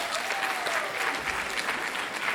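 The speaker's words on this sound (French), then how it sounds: "Merci d'applaudir bien fort, Enyo." An audience at a book award ceremony applauds a contestant as they are welcomed on stage, steady moderate clapping heard from a slight distance.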